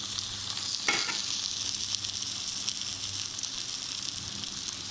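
Okra frying in a pan as tomatoes and spices go in, giving a steady hiss and sizzle with a brief clatter of stirring near the start, close and fairly quiet.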